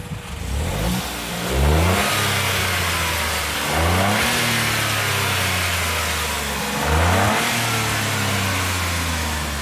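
A Hyundai HB20 Turbo car engine idles and is revved three times up close, each blip climbing sharply and falling back to a steady idle between them.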